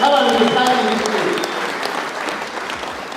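A church congregation claps loudly and steadily for the full stretch, a dense, sustained wave of applause with voices calling out underneath as it slowly eases off.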